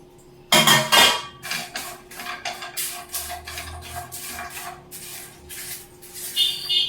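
Chopped coconut being sautéed in a pan for coconut chutney powder, rhythmic scraping and stirring strokes with hissy bursts repeating close by.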